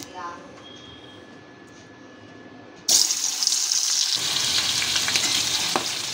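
Magur catfish coated in raw oil, turmeric and salt spits loudly in hot oil, a sudden burst of dense crackling sizzle that keeps going after a quieter stretch of faint kitchen noise.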